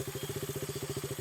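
A motorcycle engine idles close by with a quick, even chugging pulse that repeats steadily through the short moment, loud and alone with no voices.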